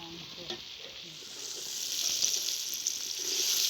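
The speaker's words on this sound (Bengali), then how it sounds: "আর এবার পেঁয়াজগুলো লাল করে ভেজে নেব।" Onions frying in mustard oil with whole biryani spices give a steady, close broadband sizzle that swells slightly louder toward the end, with faint scrapes of stirring and no talking.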